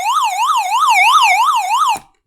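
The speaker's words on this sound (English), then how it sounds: "Let's go ahead and hit the siren." The built-in siren of a Tiemahun FS-087 emergency radio blares loudly from its single speaker, a rapid rising-and-falling electronic wail cycling about every third of a second for two seconds before cutting off sharply.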